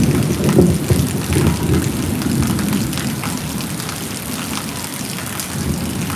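Heavy, steady rain pours down in Surat during a thunderstorm, a dense continuous roar of drops hitting surfaces that stays loud and even throughout with no voices.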